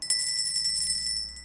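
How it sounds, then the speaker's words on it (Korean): A doorbell rings at a house's front door as a story sound effect, a steady bright electronic tone held for about a second and a half, clear and alone with no voices. "그때 벨이 울렸고"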